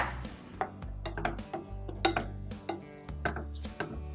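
Roasted coconut and dry fruits being stirred in a pan for panchmeva laddoos, giving repeated scraping knocks and clinks of a spoon against metal in an uneven rhythm, close and clear.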